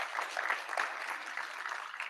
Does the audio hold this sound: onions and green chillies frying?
no